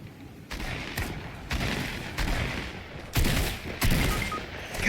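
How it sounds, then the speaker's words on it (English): Bursts of gunfire in a Fortnite match crack out in several loud volleys, roughly one per second, with sharp onsets and brief decays and no talk over them. "I heard gunshots from Dusty."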